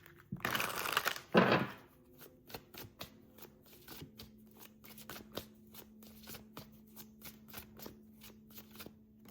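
Tarot cards being shuffled by hand: two loud riffling bursts at the start, then a long run of quick, crisp card taps and flicks in an uneven rhythm, close up with no voices.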